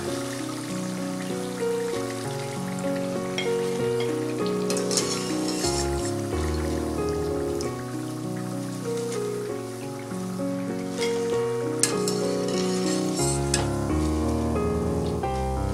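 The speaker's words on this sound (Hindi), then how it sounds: "पकौड़े को गोल्डन ब्राउन होने तक तल लेंगे।" Rice pakoras deep-fry in hot oil with a steady, rain-like sizzle that runs throughout beneath prominent background music.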